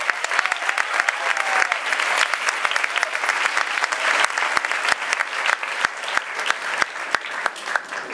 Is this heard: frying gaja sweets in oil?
no